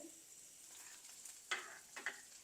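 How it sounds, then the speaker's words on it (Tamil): Fenugreek and other spices frying in oil in a clay pot for fish curry, giving a faint steady sizzle with a couple of brief louder crackles or stirring scrapes. "இந்த மூண்டும் கொஞ்சம் நல்லா பொரியட்டும்"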